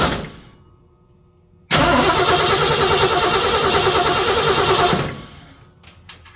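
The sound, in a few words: classic Ford truck engine cranking and starting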